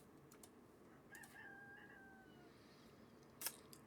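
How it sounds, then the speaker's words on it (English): A rooster crows outside a house, a faint, distant drawn-out call rising and trailing off, with soft keyboard tapping nearby and a sharp click near the end. "if you think you hear a rooster in the background,"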